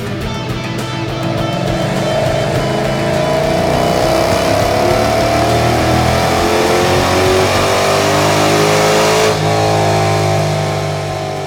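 A Dodge SRT8 V8 runs on a dyno, its engine roaring loud and steady as the revs climb in a long sustained pull, with a brief shift in tone near the end and no talking.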